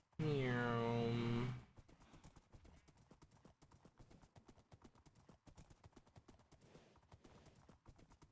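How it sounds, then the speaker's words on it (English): Horse in the Minecraft video game: a loud whinny opens, then a steady run of quick clip-clopping hooves continues softly to the end. "Let's get the horsey."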